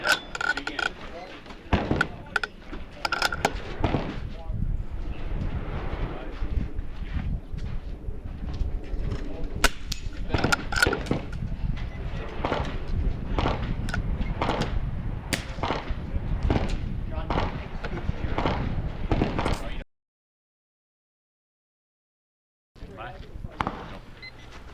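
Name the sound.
rifle shots hitting swinging targets in an NRL22 match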